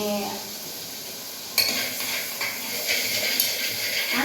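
Tomato frying in oil with chilli pieces, turmeric and salt: a soft sizzle that swells into louder hissing after a sharp clatter of utensils, with scraping and stirring sounds continuing close by.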